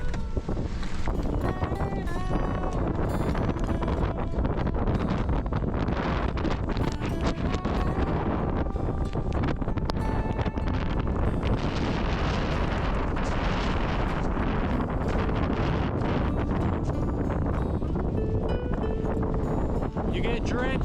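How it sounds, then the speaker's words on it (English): Heavy rain and gusting wind pound a 90s Toyota RAV4 parked on soaked back roads, a loud, dense, unbroken roar of driving rain and buffeting that stays steady for the whole stretch. "I was getting peppered with rain."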